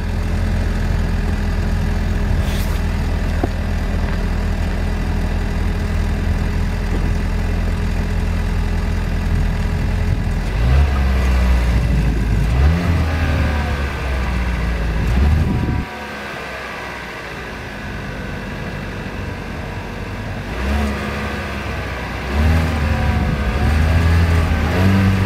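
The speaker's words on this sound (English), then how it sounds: "Got the dual exhaust right there. I'm gonna get y'all the little exhaust note real quick." A 2015 Ford Edge Titanium with the EcoBoost engine and dual exhaust idles with a steady low rumble, then revs in several swells before settling back. Loud, close and alone, with no talking.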